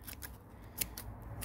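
Scissors trimming excess material while fitting a Bartek oil cooler on a 1.8T MK4 Golf GTI / Jetta, giving a couple of quiet, crisp snips close by over low background noise.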